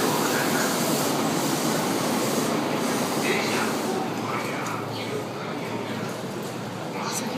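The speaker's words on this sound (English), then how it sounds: "So here's the train." A subway train rolls into the platform with a loud, steady rumble and faint wheel squeal under continuous station noise, while a person talks nearby.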